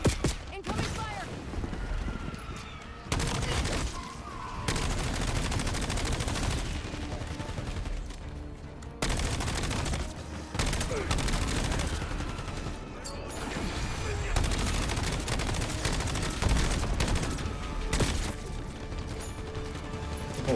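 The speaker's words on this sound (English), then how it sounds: "Incoming fire!" Intense gunfire from Call of Duty Black Ops 7, dense bursts of automatic fire and explosions stacked over several stretches, with short gaps and a voice calling out at one point.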